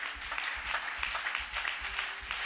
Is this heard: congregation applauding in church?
yes